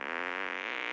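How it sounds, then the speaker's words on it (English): A buzzy, drawn-out cartoon fart from the South Park video game, a single continuous blast lasting about a second, with no talk over it. "Try and fart on me."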